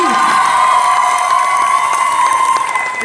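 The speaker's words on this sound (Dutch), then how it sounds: "Geef ze nog een applaus, kandidaat nummer 1." A crowd at the Miss Wellness Beauty 2019 pageant applauds and cheers for a contestant, a loud, steady wall of clapping with whoops that fills the whole short stretch.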